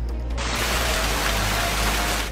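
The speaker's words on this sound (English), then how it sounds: "The system produced funnel clouds and dumped rain and hail." Heavy rain and hail storm pounding down as dense, continuous roaring noise with a deep rumble underneath, loud and unbroken throughout.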